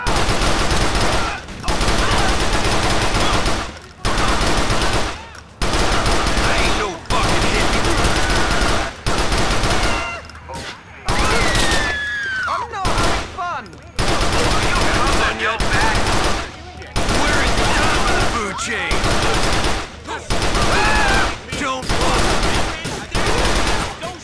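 Gunfire in GTA 4 plays as loud, near-continuous automatic bursts with short pauses, dense and close, with other game sounds briefly audible in a gap.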